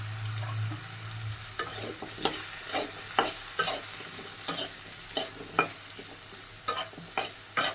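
Pumpkin pieces fry in a pan for a mixed vegetable dish with mustard paste, a steady broadband sizzle carrying repeated sharp scrapes and knocks of a spatula stirring, close and without speech.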